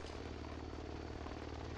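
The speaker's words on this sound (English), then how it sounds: "Oh, that's our helicopter." Helicopter in the military video game Project Reality, a steady droning rotor and engine rumble, continuous and fairly loud with no talk over it.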